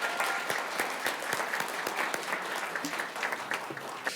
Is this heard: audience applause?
yes